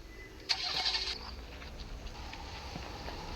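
A scooter engine starts in a Roblox game, a short burst at the ignition followed by a quiet, steady low running hum.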